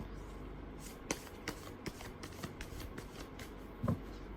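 Tarot cards being shuffled for a reading give off quiet soft riffles and light taps in a quick irregular rhythm, close and faint, with no talking.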